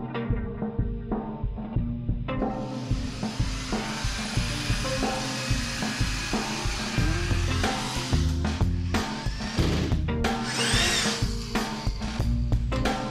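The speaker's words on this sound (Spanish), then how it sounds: "Y mientras Mail termina de taladrar la entrada del baño" Power drill boring into the bathroom entrance of a camper van, a close, loud whirring drone that pulses and shifts pitch over thirteen seconds, with rattling and bumping of the workpiece.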